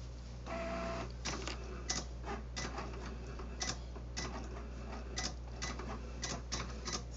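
A Cricut Explore One cutting machine draws text with a Midnight pen, giving a quiet, steady motor hum broken by rapid ticking and clicking carriage moves in irregular bursts, close and alone.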